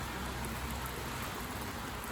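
Steady rain falls outside a narrowboat, a constant soft hiss of drops on the surface, even and unbroken, with no voices.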